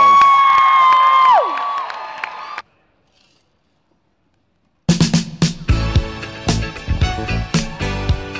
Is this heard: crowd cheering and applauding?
yes